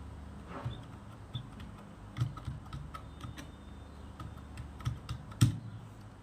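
Someone types a name into an online form on a computer keyboard, giving soft, scattered key clicks with a few sharper taps, fairly quiet against a faint room hiss and without speech.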